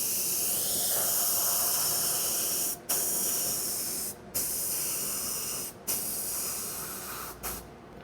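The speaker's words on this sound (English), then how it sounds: "our heat gun obviously helps speed up the drying process so we can stencil quicker" A heat gun blows a steady, close hiss of hot air while drying paint on a wooden baseball bat, cutting out briefly several times before resuming.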